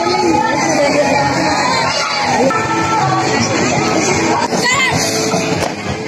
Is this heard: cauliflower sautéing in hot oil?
no